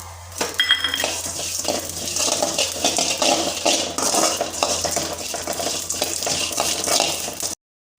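Cumin and sesame seeds dry-roast in a pan while a spoon stirs and scrapes them, producing repeated metallic scraping clicks with a soft crackle, close and fairly loud, before cutting off abruptly.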